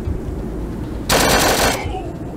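A single short automatic burst from a firearm in the post-apocalyptic RPG Atom RPG: Trudograd cracks out for about half a second over a low steady background.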